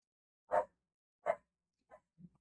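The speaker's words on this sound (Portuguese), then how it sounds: "Cachorro." A dog barks from some distance, two sharp single barks about a second apart, followed by a few fainter, softer yips or grunts, with quiet in between.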